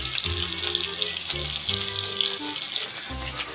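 Potatoes for chicken kosha curry frying in hot oil, a bright continuous sizzle with gentle crackle and a few soft scrapes, close and steady.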